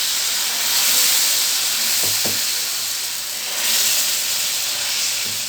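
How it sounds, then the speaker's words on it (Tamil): Rava dosa batter sizzles on a hot tawa, a steady bright hiss and crackle of frying with a couple of soft knocks from utensils, close and alone. "இப்போ நம்ம வந்து இப்போ தோசை ஊற்றலாம்."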